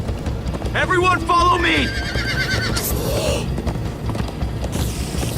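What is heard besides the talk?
horses galloping, from the video game Minecraft: Story Mode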